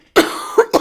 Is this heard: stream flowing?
no